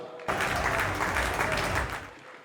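An audience at a Hindi comedy poetry recital breaks into loud, full applause that starts abruptly, holds strong, then tapers off toward the end.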